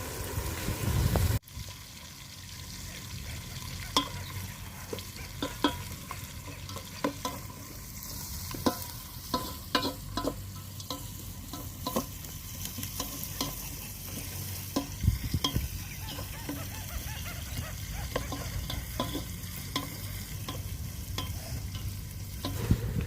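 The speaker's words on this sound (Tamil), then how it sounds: "அந்த பேஸ்ட்டு போட்டு நல்லா வந்துட்டு நம்ம வதக்கிக்கலாங்க." A ground paste of ginger, garlic, cinnamon and cloves sautés in a pan for mushroom biryani, a continuous soft sizzle with frequent scraping and tapping stir strokes throughout.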